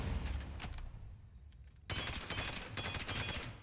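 Assault rifle fire in a shooter video game: a short burst, a pause, then sustained rapid automatic fire in two long volleys, sharp and loud.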